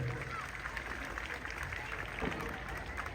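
A crowd claps steadily and evenly for the whole stretch, the applause soft and without any clear break.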